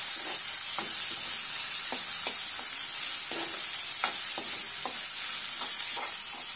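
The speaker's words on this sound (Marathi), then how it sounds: "आता हे सर्व आपल्याला व्यवस्थित परतून घ्यायचं आहे।" Onion, tomato and green chillies sauté in a pan for a spicy potato curry, giving a steady close sizzle broken by regular scraping strokes of a stirring spoon, with no voices.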